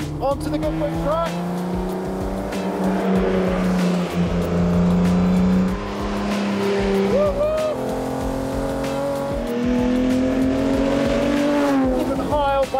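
A BMW race car laps the Goodwood circuit. Its engine drones loud and steady with rising and falling revs through the corners, and tyre noise runs underneath.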